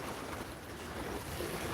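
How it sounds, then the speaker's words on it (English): Strong gusty wind blowing outdoors in a yard, gusts around 33 mph, as a steady broadband rush with buffeting against the microphone and no voices. "So we got winds here, 33 mile an hour gusts, maybe 11, 12 mile an hour wind."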